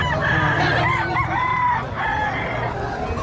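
A rooster crows nearby amid clucking chickens and farmyard background noise at a chicken market in Lemery, Batangas, the crowing rising and falling briefly.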